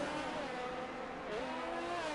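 Race car engines roar continuously in a racing video game at the Italy Grand Prix, with several cars droning together and engine pitch shifting as they accelerate and overtake.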